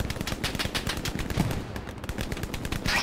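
Dense gunfire in a Hell Let Loose match on a Stalingrad map, with rapid repeated shots and bursts crackling steadily throughout, loud and close, no speech.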